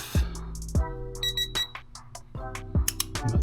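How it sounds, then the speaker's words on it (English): A digital torque wrench beeps repeatedly on reaching a target torque of 16.5 foot-pounds during an oil-change service on a 2022 Suzuki GSX-S1000 motorcycle, with loud, clear tones alongside clicks of the tool. "I use a digital torque wrench for a lot of my stuff."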